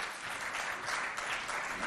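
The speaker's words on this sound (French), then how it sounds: "sous vos applaudissements" Audience at a school event in Mao applauds steadily throughout as a student is welcomed forward, a dense, continuous wash of clapping from a moderately distant crowd.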